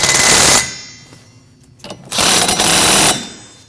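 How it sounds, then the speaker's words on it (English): Tightening 15mm nuts on the intake manifold of a 2014-2023 Jeep Cherokee: two loud, close bursts of a buzzing power tool with a quieter pause between them. "Take your 15mm nuts, put them on, and tighten them down."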